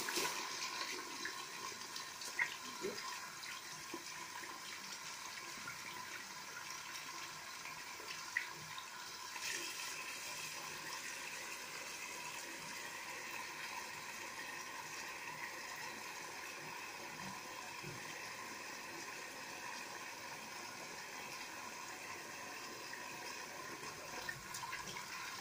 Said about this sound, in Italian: E adesso sciacquo tutto con l'acqua.